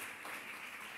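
A brief snatch of church audience applause welcoming a guest to the front, soft, steady clapping at a distance, heard alone.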